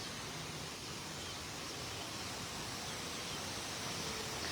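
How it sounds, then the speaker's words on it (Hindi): A waterfall in Malaysia makes a steady, continuous rush of falling water. It is fairly faint and even throughout, with no distinct bird calls standing out above it. "ये झरने की आवाज और चिड़ियों की आवाज समा बांध रही है"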